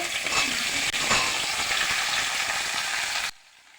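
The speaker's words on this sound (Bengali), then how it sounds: "ভেন্ডিটা আমি হালকা করে আগে ভেজে নিচ্ছি" Cut okra sizzles steadily in hot oil in a pan, a dense close crackle with light stirring knocks, stopping abruptly just before the end.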